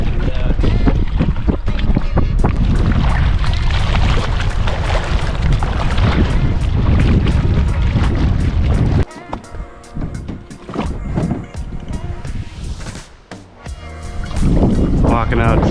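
Strong wind roars steadily across open water during paddleboarding off an uninhabited island, loud and blustery with buffeting gusts against the microphone, easing briefly midway before surging back up.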